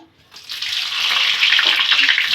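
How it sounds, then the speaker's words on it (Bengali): Bay leaf dropped into hot oil for tempering a desi chicken curry, a brief quiet moment then a loud, close hissing sizzle that rises and holds to the end. "এবার ফোড়নে দিয়ে দিব তেজপাতা"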